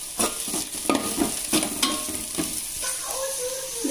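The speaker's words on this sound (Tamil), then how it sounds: "எல்லாம் நல்லா வதங்கிடுது." Onions, green chili, coriander and mint sautéing in a pan for potato fried rice, with a constant close sizzle broken by spoon stirring and scraping strokes and no voices.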